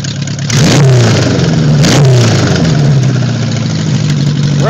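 A motorcycle engine with a misfire on the right side revs up sharply twice, then settles into a loud, rough idle, close by with no talking.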